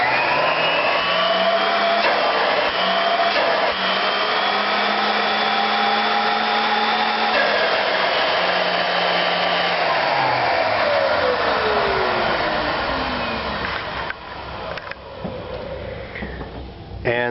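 A Filtex commercial central vacuum unit runs as a loud, steady motor drone with a whining tone, close by. Its pitch gradually sinks and the sound roughens toward the end.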